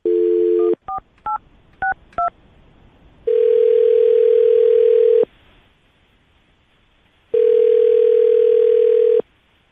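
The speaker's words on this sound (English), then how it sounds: "I'm going to dial her phone number right now, get her on the phone" A steady telephone dial tone, then a quick series of dialing beeps, followed by two long ringback tones separated by silence.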